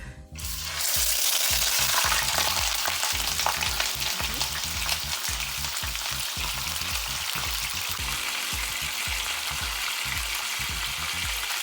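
A pork roast frying in a shallow layer of oil in a pan gives a loud, continuous sizzle with dense crackling throughout, starting abruptly after a brief quiet moment, with no voices.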